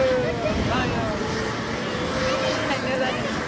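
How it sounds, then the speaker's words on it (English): A P-51 Mustang warbird flying at an air show, a steady droning engine roar mixed with wind noise, continuous and moderately loud, with announcer speech running over it. "Marco is flying Cheryl Lynn"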